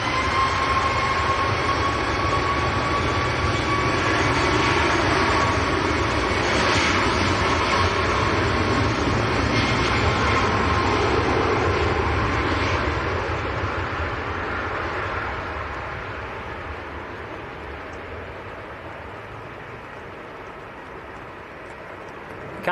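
A Ryanair airliner bound for Rhodes is at Manchester Airport on a windy day. A loud, steady broadband jet roar holds for a long stretch, then gradually eases and fades toward the end.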